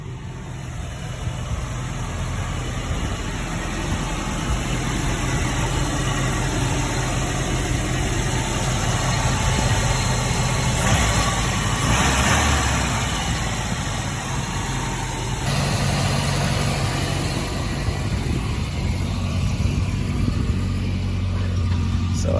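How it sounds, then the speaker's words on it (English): A 1977 Volvo 242 engine idles steadily after a cold start, a close, continuous rumble with a slightly high idle that holds even and unbroken throughout, with no talk over it. "Idle seems a little high. It might come down after it warms up"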